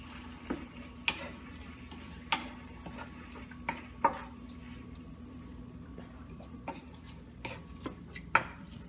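A spoon stirs coconut milk into spicy collard greens in a pot, giving quiet, irregular scrapes and clinks against the metal over a soft, steady low hum, with no talking.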